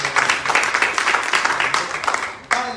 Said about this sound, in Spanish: Regálele un fuerte aplauso.